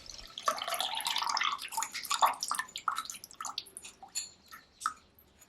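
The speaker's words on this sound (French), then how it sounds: "versez le jus d'une orange fraîche." Fresh orange juice poured into melted chocolate, irregular close splashing drips and liquid trickles, busiest at the start and thinning into separate drops toward the end.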